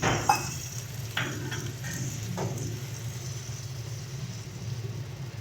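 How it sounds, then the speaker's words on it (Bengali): Mustard and poppy seed paste being stirred in a pan while cooking, a soft continuous sizzle with a few faint scrapes of the spoon, quiet and steady with no talking. "সর্ষে পোস্তটা দিয়ে ভালো করে এটাকে মিশিয়ে নেব।"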